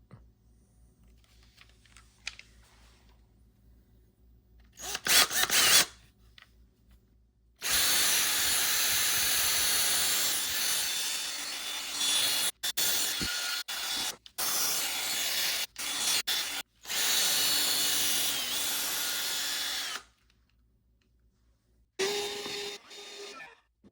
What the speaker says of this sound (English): attach this P500, so that's 500 grit sandpaper disc to our drill attachment, and then get after it